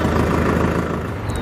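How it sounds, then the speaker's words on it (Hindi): A Farmtrac Powermax 60 tractor's diesel engine runs close by at a steady, loud idle throughout, its low, even rumble continuing without a break or audible cranking. "तो जैसे ही मैं इसको न्यूट्रल करके ट्रैक्टर स्टार्ट करता हूँ तो ट्रैक्टर स्टार्ट हो जाता है"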